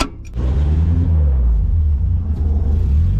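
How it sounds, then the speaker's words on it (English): An old Nissan S13 engine catches after a short cranking burst, then settles into a loud, close, steady rumbling idle. "Finally, after a good couple whacking of the starter, it finally started."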